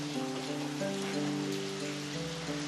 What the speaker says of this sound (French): Je ne déteste pas la pluie.